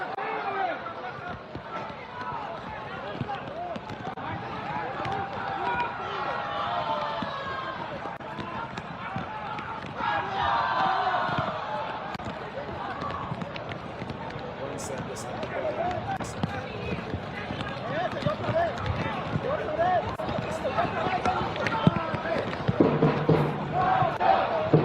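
Pro-Suriname football crowd in a stadium in Paramaribo during a night World Cup qualifier against Guatemala, a steady distant roar of fans rising toward the end, with a commentator talking over it.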